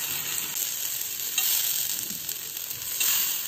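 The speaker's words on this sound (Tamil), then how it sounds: "வாழைக்காய் எல்லாத்தையும் ஃப்ரை பண்ணி எடுத்தாச்சு" Raw banana slices frying in a little oil on a dosa griddle, a soft, even sizzle with faint scraping, no talking.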